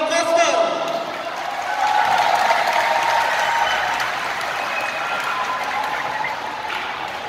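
Steady applause from a karate championship audience in Bali during a belt and honours ceremony, continuing for several seconds beneath an announcer's voice.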